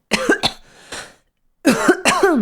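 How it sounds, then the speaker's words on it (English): Several harsh coughs close up, a quick pair, a softer one, then a longer burst of rough, hacking coughs after a short pause. "Sorry, I've been coughing so much, by the way."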